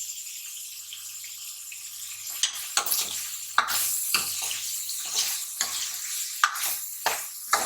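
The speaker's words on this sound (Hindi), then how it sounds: "अब हम इसमें कटी हुई लहसुन और अदरक डालेंगे।" Chopped garlic and ginger frying in hot ghee with a soft steady sizzle, broken by sharp scraping stirs and a few clinks, fairly quiet and close, with no talking.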